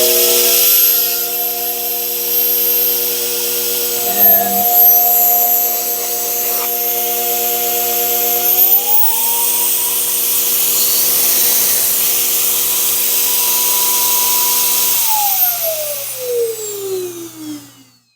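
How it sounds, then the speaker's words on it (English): Batavia MaxxSpray Plus HVLP spray gun turbine blower running loud and close, its steady whine rising in pitch as the speed is turned up from minimum to maximum, then winding down at the end. "it pushes in trigger to start the blower, and as you continue to pull the trigger, then it opens up the valve to let the paint flow"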